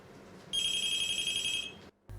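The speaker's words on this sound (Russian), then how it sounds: "Если не звонит один телефон, значит через несколько секунд зазвонит другой аппарат." Telephone rings in a busy utility dispatch office, a steady electronic trill lasting over a second, loud and close, then cut off, with room noise around it.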